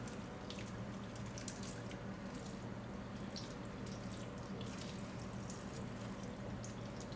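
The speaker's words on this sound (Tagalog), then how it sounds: "Ilalagay ko dito para pumatak yung tubig sa baba." Water drips from freshly washed snacks into a sink: a faint, steady trickle with scattered small drips, with no voices.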